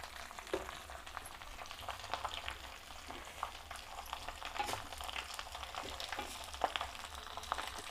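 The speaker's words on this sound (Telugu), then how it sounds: "ఆయిల్ కాగిందండి. కరివేపాకు వేస్తున్నా." Curry leaves dropped into hot oil sizzle and crackle steadily in a pan, with scattered sharper pops over a continuous frying hiss, close and moderately loud, no talking.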